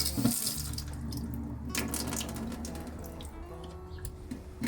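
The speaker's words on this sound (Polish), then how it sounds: "Włączamy baterię, znaczy w sensie wodę." A tap turned on in a camper van runs steadily, pump-fed water splashing into a small sink with a sharp initial gush that settles into a constant close hiss and patter, no talking.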